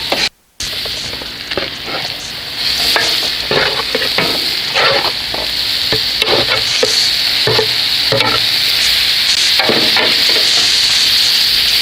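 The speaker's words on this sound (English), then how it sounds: "And now this is where we're going to be adding our shrimp back into our pan." Shrimp tumble back into a hot pan for tequila lime shrimp and are stirred, giving a steady close sizzle with repeated scraping and stirring strokes, loud and continuous with no talking.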